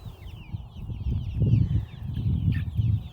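Homestead chickens cluck in low, throaty bursts close by, with thin chirps from other birds above them.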